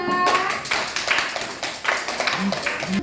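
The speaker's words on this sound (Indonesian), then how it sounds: "Kasih applause untuk kelompok 2" Scattered hand clapping from a classroom group applauding another group's work, several brief taps and claps over about three seconds with background voices and classroom noise.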